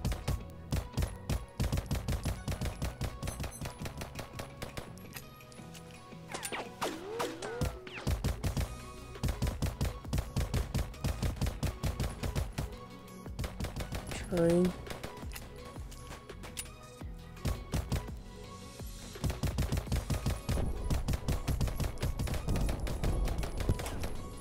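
MP40 submachine gun fire in the Battlefield-style video game Polyfield: rapid bursts of loud, close gunshots with brief pauses, continuing nearly throughout alongside other gunfire.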